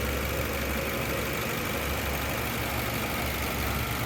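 A stock 1993 Nissan S13 240SX's 2.4 liter port-injected double overhead cam engine idles up close, a steady, even hum with a low rumble that holds unchanged throughout.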